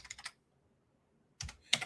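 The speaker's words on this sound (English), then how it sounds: "You can do this while I'm typing it in." Computer keyboard typing in two short bursts of quick key clicks, the first at the start and the second near the end, with a near-silent pause between them.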